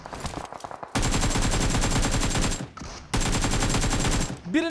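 Automatic gunfire rattles in the shooter game PUBG Mobile: two long, loud sustained bursts of rapid shots split by a brief pause, with a few scattered shots before them.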